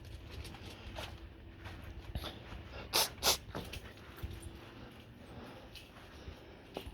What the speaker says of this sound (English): I'm corralling the dogs around.